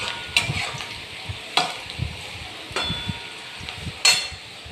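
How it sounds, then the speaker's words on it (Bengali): Onions fry in oil in a pan over medium heat, giving a steady, close sizzle with occasional sharp scrapes and knocks of a stirring utensil, no voices. "গ্যাসটা একটু মিডিয়াম আঁচে করে পেঁয়াজটা ভাজতে হবে"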